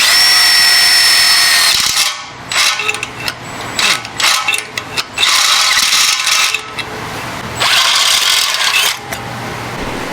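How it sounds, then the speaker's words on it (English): Power drill boring holes through metal mounting tabs, running in several loud, close bursts of a few seconds each with short pauses between, a high whine rising as the bit cuts. "I need to drill some holes in these tabs here"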